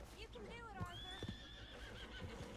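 Horse whinnying in Red Dead Redemption 2, a loud rising and falling neigh up close, with hoof clip-clops and background game ambience.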